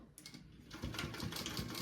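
A sewing machine basting fabric for a sling bag, a quiet motor starting up and then running in a quick, even stitching rattle for under two seconds.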